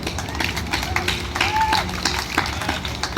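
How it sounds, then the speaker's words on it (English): An audience at a stand-up comedy open mic applauds for the musicians, with a burst of dense clapping and crowd noise filling the room, plus a few brief voices. "So let's have a round of applause for all the musicians."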